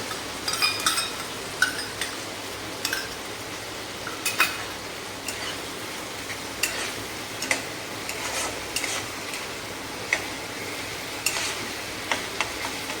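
Green chilli, red chilli, soy and tomato sauces with ground pepper and red chilli powder stir-fried over a high flame for chilli chicken, a constant hissing sizzle with scattered utensil clinks and scrapes against the pan.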